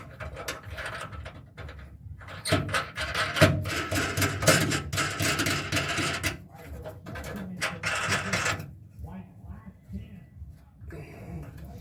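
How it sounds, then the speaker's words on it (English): Ratchet-wrench clicks and metallic clanks tighten nuts on the gas tank straps of a 1968 Camaro, coming in busy close bursts with short pauses between them. "So I'll get those nuts tightened up."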